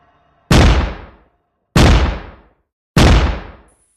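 Three loud gunshots in a jungle, evenly spaced, each a sharp crack with a booming tail that fades over about half a second.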